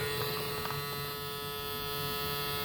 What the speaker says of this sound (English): that sound is the sound of the hopper